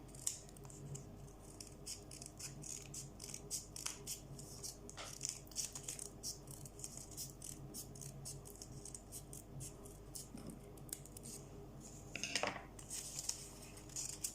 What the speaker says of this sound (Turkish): Şimdi de köşelerine böyle kağıtlarımı keseceğim.